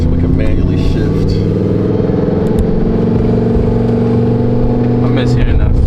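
Lamborghini Huracan fitted with a race exhaust, set in race mode and lowered, holds a loud steady engine drone with layered low harmonics throughout, with a person talking over it.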